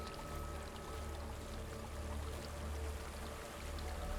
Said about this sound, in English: Is this the end of the stream? No. There's a waterfall.